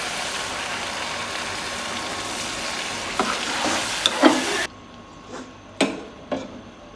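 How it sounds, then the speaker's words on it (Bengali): Water goes into large prawn masala frying in a pan, with a dense, loud sizzle that suddenly drops to a quieter simmer broken by a few sharp utensil clinks. "এখন দিয়ে দিচ্ছি জল।"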